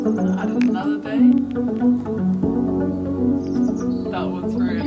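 Dark, heavy synth bass added to a layered electronic track, a thick sustained low drone under shimmering synth notes and sparkly high flutters, with a shift in the low end midway, continuous and loud.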